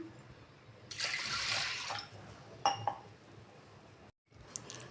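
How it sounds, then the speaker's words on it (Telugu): Water poured into washed toor dal in a pressure cooker, a rushing pour for about a second followed by a few splashes and clinks, then quieter dripping. "దీనిలోకి వాటర్ని యాడ్ చేసుకుందాం"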